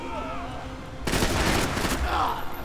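Rapid bursts of gunfire from Max Payne 3 erupt after a quieter moment, a loud dense stream of shots continuing to the end, with faint voices underneath.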